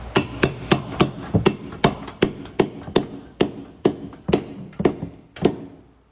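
A hammer taps a car part while fitting a frozen bushing on a BMW E36 drift car, about twenty sharp metallic knocks in an uneven rhythm, close and fairly loud.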